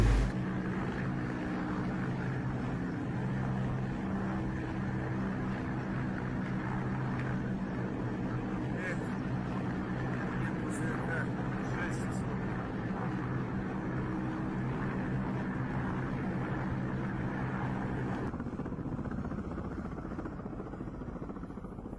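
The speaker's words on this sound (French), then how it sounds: "De nombreux hélicoptères de combat russes traversent la frontière ukrainienne." Russian combat helicopters crossing the Ukrainian border drone overhead in a continuous, loud rotor roar that holds steady and fades slightly toward the end.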